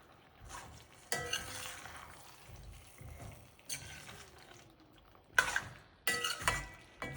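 A spoon scrapes and clinks against a pan as chicken in masala is stirred and fried for chicken curry, with irregular louder knocks over a faint background sizzle and no speech.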